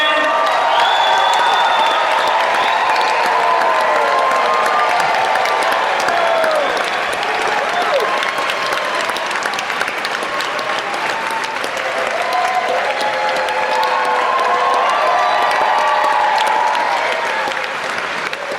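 A large crowd at The Goonies 40th anniversary event in Astoria, Oregon applauds and cheers continuously, with whoops and shouts rising over dense clapping, loud and sustained throughout.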